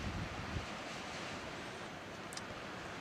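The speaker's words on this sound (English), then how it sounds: "And you can kind of hear the wind in the background." Wind blows across an open mountain ridge off a highway, a steady broadband rush with gusty microphone buffeting, fairly faint, with no talking.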